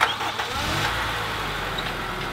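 A car engine runs steadily after a small top-up of engine oil, left going to reveal oil leaks; a continuous, even mechanical hum with no talk over it.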